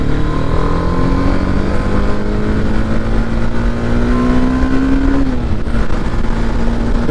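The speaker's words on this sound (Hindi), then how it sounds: "भाई ये देखो BMW की M Sport जा रही भाई, M2 या M3, M3 है भाई" A BMW M3 passes in traffic on a road. A loud, steady engine roar fills the whole stretch, with one rising tone that climbs and then drops near the end as the car goes by.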